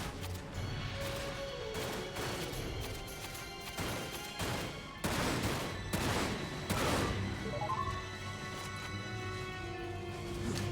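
Gunfire in the Dirge of Cerberus video game: a series of sharp shots and crashing impacts in irregular bursts over a steady game backdrop, fairly close and loud.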